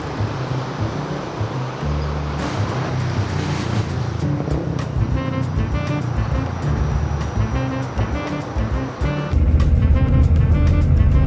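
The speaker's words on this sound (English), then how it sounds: "Back on board the bus, where it's air conditioned" Inside an air-conditioned tour bus moving through Kuala Lumpur, a low engine rumble and road noise hold steady, growing heavier and louder near the end.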